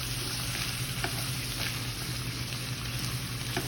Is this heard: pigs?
no